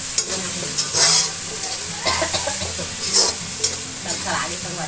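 Garlic, onion and green chili sizzle in a pan while being stirred, with spatula scrapes and brief louder bursts of frying at a regular pace, close by and without speech.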